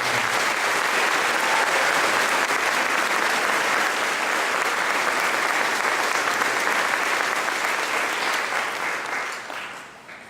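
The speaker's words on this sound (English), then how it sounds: "Round of applause." Sustained applause from a large audience at an eighth grade graduation ceremony, a dense steady wash of many hands clapping that holds for about eight seconds before gradually thinning and fading out.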